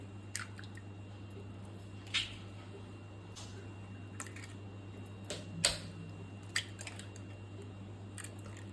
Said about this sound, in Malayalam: എന്നിട്ട് 3 മുട്ട ഇതിൽ പൊട്ടിച്ച് വയ്ക്കുക.